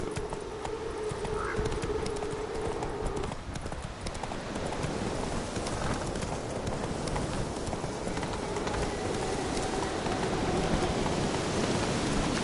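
Horse galloping in The Witcher 3 video game, a fast, continuous hoof rhythm under a dense wash of outdoor ambience, steady and fairly loud throughout.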